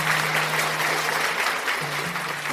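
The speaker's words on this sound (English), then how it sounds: "So clap it up for Bernie C." An audience claps steadily for a jazz funk guest taking the stage, a dense even wash of applause lasting throughout at moderate loudness.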